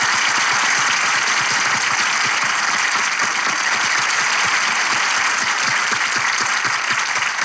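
A large live audience of about 2000 people applauds at a Turkish stage show, producing dense, steady clapping that fills the hall without a break from start to finish.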